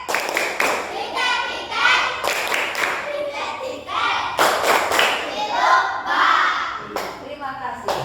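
A class of schoolchildren claps out the rhythmic 'tepuk titik' clap pattern in bursts, with sharp grouped claps and thumps mixed with the children's chanting voices and a teacher's speech.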